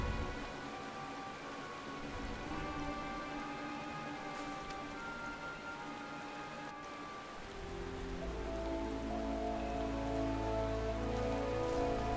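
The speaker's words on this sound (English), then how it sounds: "the fact that it's raining here" Steady rain falls in Final Fantasy XIV, a dense continuous hiss that holds throughout and thickens with a deeper rumbling layer toward the end.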